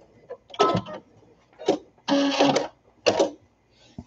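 A sewing machine stitches a baby sunsuit back and forth, running in four short bursts of rapid mechanical whirring with brief quiet pauses between them, close up and alone.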